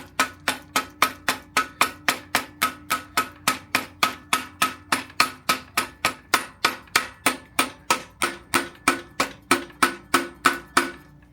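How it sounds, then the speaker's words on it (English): A soft hammer taps repeatedly on a part of a budget 1990s GT Karakoram mountain bike, striking about three times per second in a steady, even rhythm of sharp, close knocks with no talk. "I'm just gonna have to maybe hammer this with the soft hammer a little bit here"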